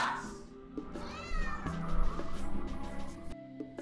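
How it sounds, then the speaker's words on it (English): A cat meows excitedly in a run of drawn-out, rising calls at close range, heard over a steady background of other indoor sounds. "it's the one where his cat reacts excitedly to the new record"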